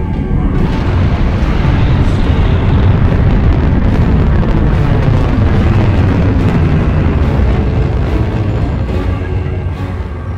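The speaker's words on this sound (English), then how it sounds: "I have launched the first nuclear missile." A nuclear missile launching in the game Freedom Force vs the 3rd Reich: a loud, sustained roaring rumble with booming bursts that fills the whole stretch without letting up.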